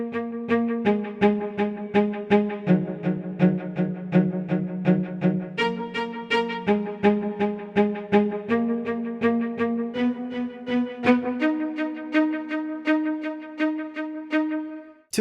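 A staccato string quartet patch plays quick bouncing detached notes in a steady pulsing rhythm, with a delay making repeats echo back and forth, shifting through several chords, full and close with no voices.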